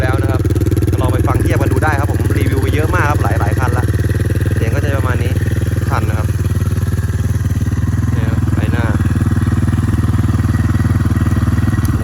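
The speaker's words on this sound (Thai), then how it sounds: "ลองฟังเสียงเครื่องเลยครับผม เดิมๆนะครับเสียงก็จะอย่างนี้" A stock Ryuka Infinity 250cc motorcycle engine runs at a steady, loud, close idle with a rough, even throb throughout, while someone talks over it intermittently.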